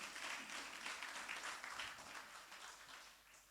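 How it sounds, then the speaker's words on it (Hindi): A church congregation applauds together, a dense and steady clapping that stays loud and even before thinning slightly toward the end, with no voices over it. "जोरदार ताली बजाएं प्रभु के दास के लिए"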